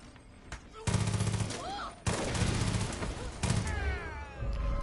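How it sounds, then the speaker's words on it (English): Far Cry 5 gunfire in repeated bursts of rapid automatic shots, loud and close, separated by short pauses, with a few faint voice sounds in between. "Oh, I just shot the civilian!"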